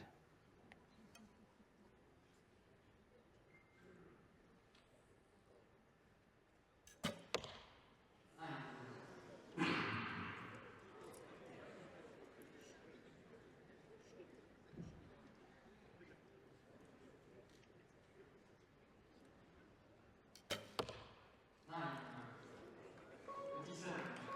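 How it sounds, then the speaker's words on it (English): Two sharp, sudden thuds land several seconds apart as recurve arrows strike a target in a women's archery bronze medal match, while commentators talk over a low crowd murmur. "The second arrow for Andreoli's gone for a measure."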